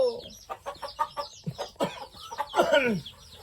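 Chickens cluck in a short run of soft, closely spaced calls at a farm, fairly near, with no talk over them.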